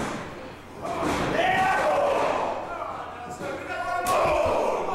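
Wrestling lariat slam in the ring as a big forearm strike connects, with a heavy thud over loud crowd noise and commentary running throughout.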